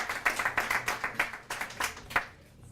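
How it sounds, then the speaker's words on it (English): A modest audience at a poetry night claps for a high school teacher coming up, with distinct hand claps in a loose rhythm that thin out and stop toward the end. "A big round of applause for Eric"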